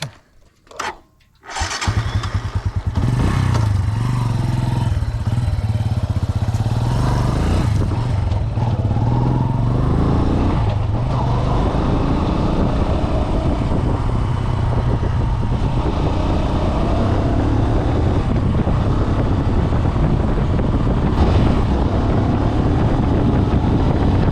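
A Bajaj Boxer motorcycle starts with a few brief cranks and then runs steadily while riding, a loud continuous engine drone with wind noise and slight shifts in pitch.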